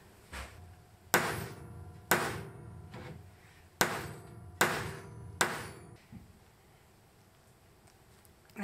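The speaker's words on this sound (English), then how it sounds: "That's the second crimp." A cable lug being crimped onto a heavy wire for a 1500W solar inverter setup, heard as six sharp, loud metallic clacks in a steady rhythm, close up, with no talking.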